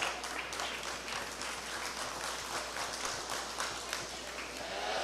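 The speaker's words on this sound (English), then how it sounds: "let's give all these exhibitors a round of applause" Audience applause rising for exhibitors at a 2021 sheep show arena, a steady wash of many hands clapping at moderate level throughout, with faint voices mixed in.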